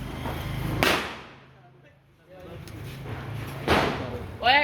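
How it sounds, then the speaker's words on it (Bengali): A firecracker bursts with a sharp, loud crack early on, followed by a quieter stretch and a second sharp burst near the end, amid outdoor chatter and background voices. "ওই আমি একটা বম ফুটাই"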